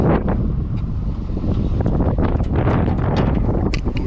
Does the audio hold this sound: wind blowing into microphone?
yes